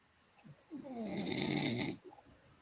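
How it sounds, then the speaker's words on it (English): One long, rumbling snore rises and fades, heard alone and fairly close. "Who's snoring?"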